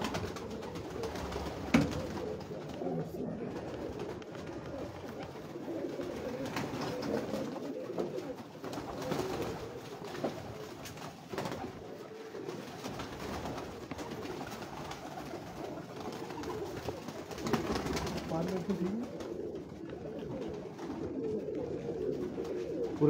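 Several pigeons coo continuously in low, throaty warbles, a dense overlapping murmur from a flock close by.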